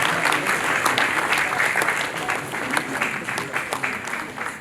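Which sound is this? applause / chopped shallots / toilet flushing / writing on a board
applause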